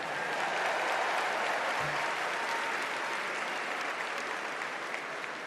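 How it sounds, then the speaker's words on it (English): A large convention crowd in Chicago at the Democratic National Convention applauds continuously, a loud, sustained roar of clapping and cheering that fills the whole stretch without letup. "Let's give Brian and Sandra another round of applause"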